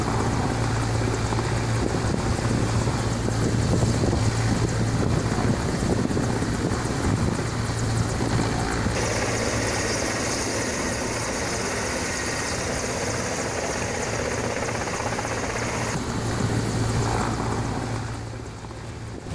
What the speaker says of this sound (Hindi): हेलीकॉप्टर के जरिए इस आदमी को बचाया गया।